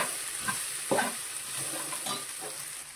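Okra (bendakaya) curry being stirred in a pan, a spoon scraping and turning the pieces in a few distinct strokes over a steady soft sizzle, close and moderately quiet, with no voices.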